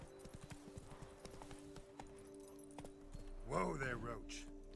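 Hooves of Roach, a horse in The Witcher 3: Blood & Wine, clip-clop in a regular gait under a steady game hum, followed by a louder neigh-like call near the end.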